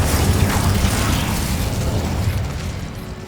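The Incendio fire spell in Hogwarts Legacy bursts out as a broad, roaring whoosh of flame, loud at first and slowly fading toward the end.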